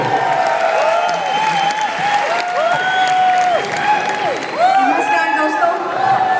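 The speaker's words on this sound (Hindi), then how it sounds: "तालियां हमारे नेक्स्ट रनर" A crowd at a 20th anniversary networking event in Delhi claps and cheers with whoops, a lively, sustained applause while music with sliding tones plays loudly over it.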